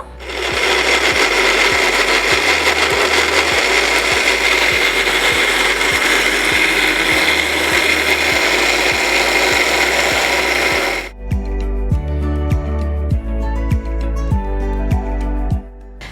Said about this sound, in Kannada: ಓಕೆ ಈಗ ಮಿಕ್ಸಿ ಮಾಡ್ಕೊಳ್ಳೋಣ